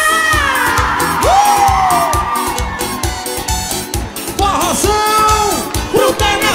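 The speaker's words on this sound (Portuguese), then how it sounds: "Solta o gritinho aí" A concert crowd at a forró show shouts and squeals in excited bursts, loud and close, mixed with music and a high voice.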